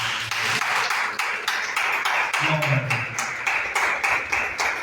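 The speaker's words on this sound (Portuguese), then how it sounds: "Dá uma salva de palmas" A church congregation claps hands in a steady, rhythmic beat, loud and continuous, while a voice carries on over the clapping.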